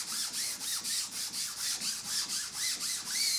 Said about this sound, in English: I'm just letting the sandpaper do a lot of the work.